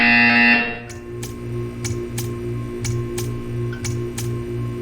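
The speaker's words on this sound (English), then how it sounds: "You will hear a buzzer." A buzzer sounding in a video game: a loud harsh tone cuts off early, followed by a steady pulsing buzz with regular ticking beats, about one per half-second, with no talking.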